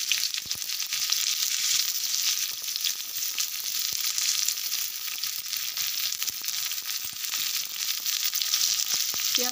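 Onions frying in hot oil for egg fried rice give a loud, steady, close sizzle with a dense hiss and occasional crackles and stirring scrapes, with no talking.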